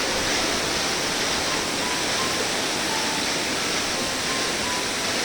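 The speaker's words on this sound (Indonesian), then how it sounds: "tepatnya di bawah air terjun Manik Moyong." The Manikmoyo waterfall roars close by, a dense, even rush of falling water that holds steady with no other sounds.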